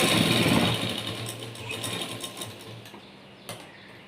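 A sewing machine stitches a blouse seam with a steady, close mechanical whir and needle clatter that runs loud at first and then eases to a lighter rattle, with a brief tick near the end and no talk.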